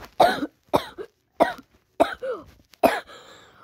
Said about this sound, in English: I was just coughing because I had screamed a lot